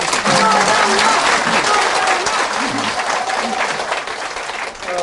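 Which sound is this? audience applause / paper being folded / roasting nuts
audience applause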